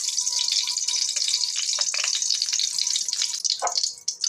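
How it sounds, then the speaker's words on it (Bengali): Oil heats in a hot kadai (wok) for a drumstick-stem chorchori, giving a steady bright hiss with a few wetter bursts and crackles near the end. "কড়াই গরম হয়ে গেছে, তেল দিয়ে দেব।"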